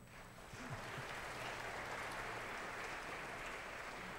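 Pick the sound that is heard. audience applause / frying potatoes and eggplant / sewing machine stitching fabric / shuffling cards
audience applause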